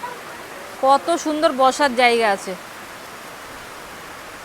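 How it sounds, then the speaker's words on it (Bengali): Heavy rain falls at a beach in North Andaman as a steady, even wash of noise, with a person speaking briefly over it partway through. "আর বৃষ্টি পড়ছে"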